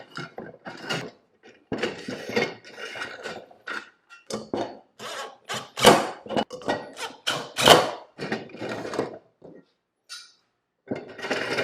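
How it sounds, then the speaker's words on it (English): Screws driven into the wooden pieces of a BORA wall-mounted lumber storage rack, heard as repeated bursts of mechanical whirring and grinding with short pauses between them, close and fairly loud with no talking. "Just keep on installing these screws."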